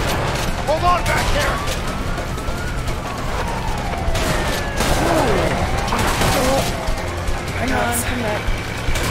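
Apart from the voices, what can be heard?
gunfire in video game A Way Out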